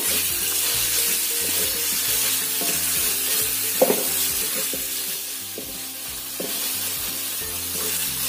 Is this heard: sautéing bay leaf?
yes